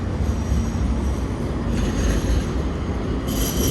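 A tram rolls past close by with a continuous loud rumble of wheels on rails and a faint metallic squeal rising toward the end, with no voices heard.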